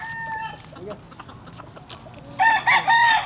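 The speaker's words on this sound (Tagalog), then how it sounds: "Over there, some chickens there." Chickens on a Philippine farm cluck softly at close range, then a rooster breaks in with a loud, nearby crow over the last second, with faint voices in the background.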